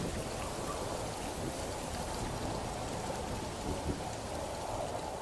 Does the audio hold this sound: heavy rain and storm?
yes